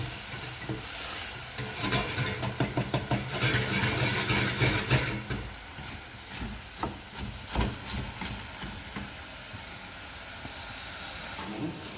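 Vegetables sweat down in a pan for soup, with a soft continuous sizzle and steam under repeated close stirring and scraping, rhythmic at first and then sparser.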